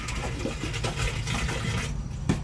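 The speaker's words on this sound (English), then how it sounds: "Should see a big gush of water." Flushed toilet water gushes through a drain line in a steady rushing wash, close and moderately loud, easing slightly near the end.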